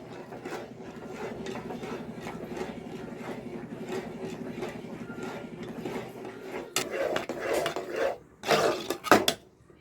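Thick millet porridge (kali) worked in a pot, a rhythmic churning knock of a spoon through heavy dough that turns into louder, irregular clanks and scrapes near the end.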